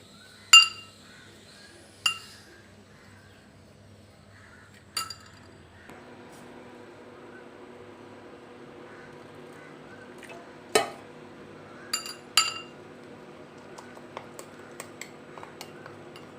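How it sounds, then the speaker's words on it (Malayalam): Spoon clinks against a ceramic mug while chocolate mug cake batter is stirred with room-temperature milk, a few sharp close taps over a soft continuous scraping and stirring. "ഇനി ഇതിലേക്ക് നമ്മളുടെ റൂം ടെമ്പറേച്ചറിൽ ഉള്ള കുറച്ച് പാല് ചേർക്കാം എന്നിട്ട് നന്നായിട്ട് മിക്സ് ചെയ്യാം"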